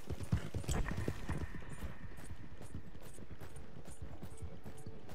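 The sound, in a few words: horse hooves clip-clopping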